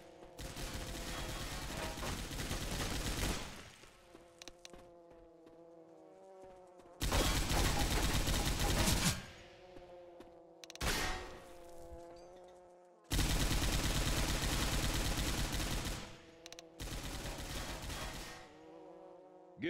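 A heavy gun in Left 4 Dead 2 fires in long sustained bursts of rapid automatic fire, loud and close, separated by quieter stretches with a droning hum.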